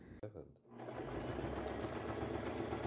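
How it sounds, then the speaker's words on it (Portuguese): A sewing machine runs a straight stitch along a large Victorian-style skirt, its fast steady motor hum and needle clatter close and continuous after a brief bump at the start. "Para montar a saia, usei uma costura reta comum, a máquina"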